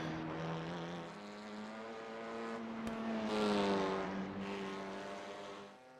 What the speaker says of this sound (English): Then we've got the Hornet's Nest exhaust coming from KFM Motorsports Honda Civic TCR car there.